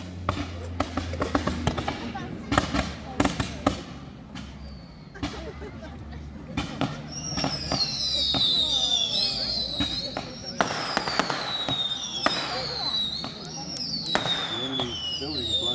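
Pyrotechnic explosions crack and boom in rapid bursts during a mini boat battle re-enactment show at Scarborough, with whistling rockets rising amid crowd noise and a continuous outdoor rumble.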